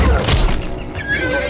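A horse in a fantasy drama lets out a short, loud whinny at the start. A low rumble sits under it, and faint voices follow as the sound dies away.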